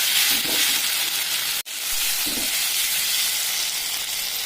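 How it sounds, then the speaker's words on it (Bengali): Spice paste with tomato and salt sautéing in hot oil for a meat curry, a continuous close sizzle with a brief scrape of stirring partway through, no voices. "এবারে বেশ কিছুক্ষণ ধরে মশলাটাকে ভালো করে কষিয়ে নেব"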